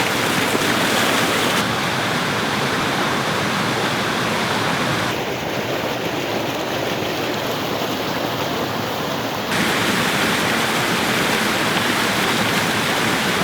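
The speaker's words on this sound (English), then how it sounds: "capture that feeling of water rushing in from up the mountain into the valley" Mountain stream rushing through a rainy forest as a loud, steady, broadband roar that fills the whole stretch without letting up, with rain mixed in and no voices.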